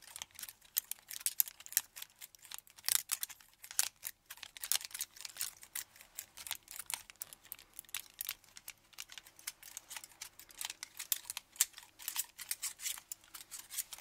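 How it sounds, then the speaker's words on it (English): Scissors snipping close to the ear during a fake ASMR haircut, with rapid, dense, crisp clicks running continuously at a soft, intimate level and no speech. "We'll bring back the intense pair of scissors too."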